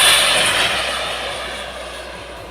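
A radio-controlled model F9F Cougar jet flies past, its turbine giving a loud, high-pitched whine that fades steadily as it pulls away, alone without talk.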